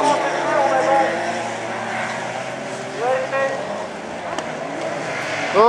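A race car engine revs hard and loud, its pitch climbing and then stumbling as the driver misses a gear shift, with excited talk layered over it.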